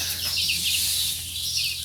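Newly hatched chicks huddled in a garage under a heat plate fill the space with a dense, continuous chorus of high, rapid peeping, steady and close with no talking.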